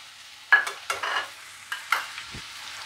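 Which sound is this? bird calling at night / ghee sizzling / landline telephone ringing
ghee sizzling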